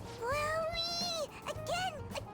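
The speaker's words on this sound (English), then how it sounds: "It's just a toy. It meows when you press on its head." A stuffed toy cat in Persona 5 Royal gives two drawn-out, rising-and-falling meows when its head is pressed, loud and close with a short gap between them.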